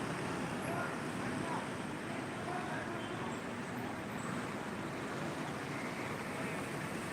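Traffic jam on the Panjim–Mapusa road near Porvorim in Goa, heard as a steady, dense roar of road noise and wind throughout, with no distinct horns or engines standing out.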